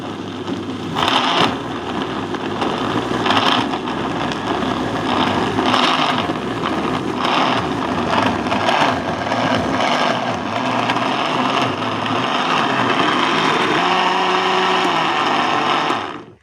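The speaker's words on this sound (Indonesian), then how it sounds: "Ini di blender sampai dia menjadi jus." A kitchen blender runs steadily, whirring loud and continuous as it purees aloe vera, garlic and soursop leaves in water into a juice for a homemade pesticide, with pulses of grinding and a pitch shift near the end.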